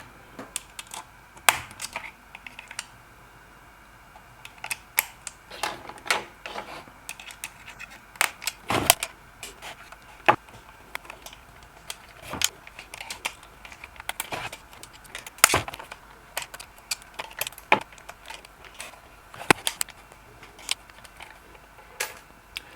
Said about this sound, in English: now I'm gonna loosen these screws